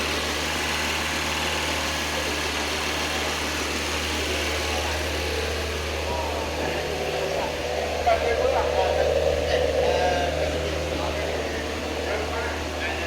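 Porsche 924 engine idling steadily while burning off oil, a low continuous hum and drone with no revving, close by and fairly quiet throughout.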